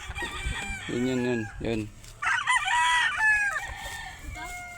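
Young roosters, stags of a brown-red straight-comb type, crowing and clucking nearby, with one short crow followed by a longer one and a person briefly speaking.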